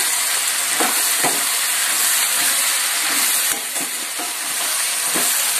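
Tomato curry being stirred in a pan with chili powder added, steady close frying sizzle and hiss throughout with a few soft scraping strokes of the spoon.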